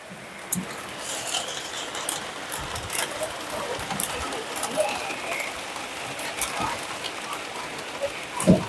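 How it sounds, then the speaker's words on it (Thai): Heavy rain from a storm pours steadily on surfaces, with scattered louder drops and knocks and someone talking over it. "ตอนนี้ฝนได้ตกลงมาอย่างแรง"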